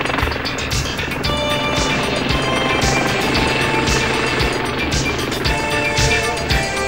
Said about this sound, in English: The helicopter simply formates with a friendly warship and takes on a fresh supply of fuel.